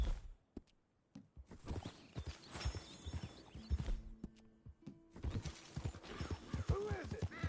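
Horse hooves clip-clopping at a trot in Red Dead Redemption 2, steady close hoofbeats with a brief whinny, mixed with game ambience and a voice urging the horse on.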